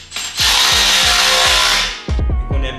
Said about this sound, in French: on peut serrer les vis